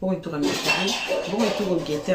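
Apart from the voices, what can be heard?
pots and pans clattering outside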